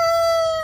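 A rooster crows in a single sustained, loud, close call among growing farm chickens, a steady tonal note that tails off at the end.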